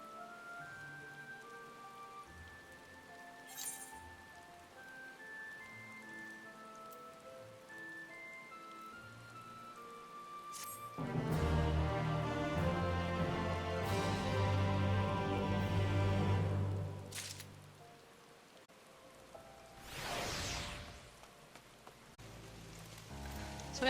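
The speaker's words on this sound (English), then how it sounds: "I didn't realize that it's actually raining in Ulda, in the desert." Rain falling in the desert city of Ul'dah in Final Fantasy XIV, a steady soft patter that swells louder in the middle, with game music playing throughout.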